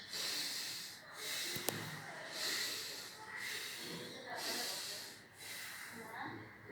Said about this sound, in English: Inhale and exhale. Breathe in and breathe out 3 times.